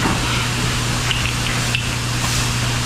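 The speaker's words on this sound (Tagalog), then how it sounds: "Gumamit na kami ng power spray pang linis sa kanilang kulungan." A power sprayer blasts water to clean a pig pen, making a loud continuous hiss over a steady low motor hum, with a few faint clanks.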